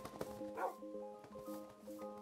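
Dogs in the Minecraft video game barking in quick repeated yips and whimpers, several short calls with a steady game tone underneath, faint and clean.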